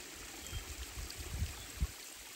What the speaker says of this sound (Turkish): Su hep boşa akıyor. Dere gibi.